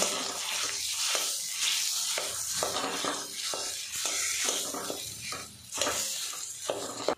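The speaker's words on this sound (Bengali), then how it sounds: "আলুটা বেশ কিছুক্ষণ ভাজা ভাজা করে নেব।" Steady sizzling and crackling of grated potato frying in a pan, with occasional stirring scrapes, continuous and close throughout.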